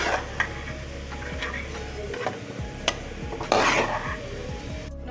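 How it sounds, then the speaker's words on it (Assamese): Garlic cloves fry in butter in a pan for garlic butter rice, with a soft sizzle beneath close spoon scrapes, stirring and a few sharp metallic clinks against the pan. "এতিয়া নহৰুকেইটা ৰঙাকৈ ভাজি ল'ম বাটাৰ।"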